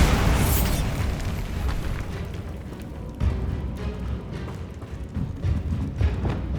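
A Bombarda explosion spell from Hogwarts Legacy goes off with a loud, broad blast at the start, then a rumbling, crackling tail with a few smaller thuds trailing away.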